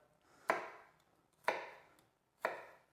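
A knife chops vegetables into small chunks on a cutting board while cooking a Bolognese sauce, three sharp evenly spaced thuds about a second apart, close and quiet with no talk.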